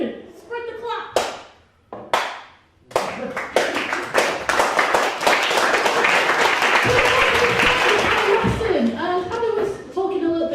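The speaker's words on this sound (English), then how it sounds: "you guys will start clapping as well, and the clapping will finally get to the front" Audience clapping at a stand-up comedy night starts as a few scattered claps, then builds and spreads into sustained, dense applause filling the room before tapering slightly.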